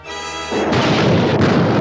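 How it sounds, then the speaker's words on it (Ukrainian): A cartoon house blowing up in Tom and Jerry: a brief tonal note cuts into a loud, broad explosive roar that rumbles on for over a second, with a second burst of crackling debris. "після вибуху серед уламків будинку вціліле радіо знов запевняє слухачів"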